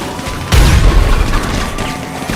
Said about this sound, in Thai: ปืนนี่เป็นปืนลูกดอกระเบิดยิงรัว